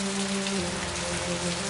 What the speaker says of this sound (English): Just a drizzle.